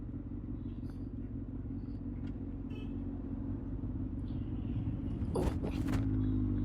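Steady low road rumble of normal city traffic in Delhi, heard from a Kawasaki Ninja ZX6R, with passing cars and motorcycles and a brief louder vehicle burst near the end.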